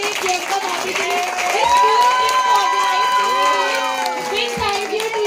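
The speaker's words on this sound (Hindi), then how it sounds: "तो एक बार जोरदार ताली हो जाए वैली भाई के लिए, प्रियंका भाभी के लिए।" Audience at a spiritual gathering applauds and cheers, a dense, sustained crowd roar with shouting voices and clapping throughout, fairly loud and close.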